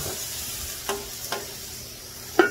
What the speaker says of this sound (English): A little bit more water, let it steam.